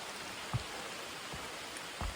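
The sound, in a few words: rain falling on the Appalachian Trail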